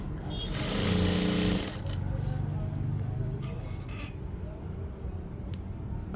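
Sewing machine stitching the hem of a homemade frock-style nightie, heard as a steady mechanical run of about a second and a half that then eases into quieter, intermittent motor hum, with speech around it.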